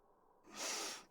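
A game character in Tales of Berseria lets out a single breathy sneeze, a sharp hissing burst that swells and fades within a second, close and fairly quiet.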